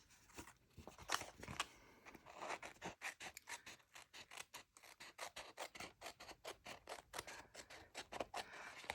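Scissors snip through paper along a heart template, a close, rapid series of crisp rhythmic cuts with short pauses between bursts.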